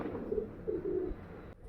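Girebaaz pigeons coo in soft, low, rolling phrases, close by and fairly faint, with two or three murmured calls running together.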